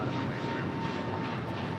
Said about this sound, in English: 1372 departing to Dallas Fort Worth on an A321 Neo